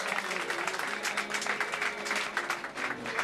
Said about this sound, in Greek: Ένα χειροκρότημα για τον Ηλία.